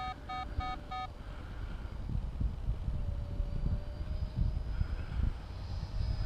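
A Hobbyking Tornado 75 RC plane on 6S power flies as a faint, steady motor whine that rises in pitch, heard over continuous wind and outdoor rumble, with a few brief electronic beeps at the start.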